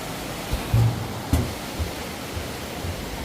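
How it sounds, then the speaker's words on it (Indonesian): Rushing river water flows beneath an iron suspension bridge, a steady broadband roar with a few faint knocks, heard continuously at close range without speech. "jembatan gantung besi dengan suara gemericik airnya yang semakin kencang kami dengarkan dari sini"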